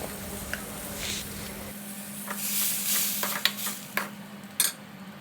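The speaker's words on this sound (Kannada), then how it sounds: "ಈಗ ಈ ಪ್ಯೂರಿಯನ್ನು, ಟೊಮ್ಯಾಟೊ ಪ್ಯೂರಿಯನ್ನು ಇದಕ್ಕೆ ಸೇರಿಸ್ತಾ ಇದ್ದೇನೆ ನೋಡಿ" Tomato puree goes into a pan of fried onions, and a soft sizzle rises as a spoon stirs through it. Close, moderate scraping and a few sharp clinks of the spoon against the pan come through with no talking.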